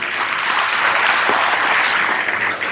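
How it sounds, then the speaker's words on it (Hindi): Audience applause at a motivational talk on happiness by Prof. BK Onkar Sharma, a dense, loud crowd clapping sustained evenly throughout. "बजा दो ताली।"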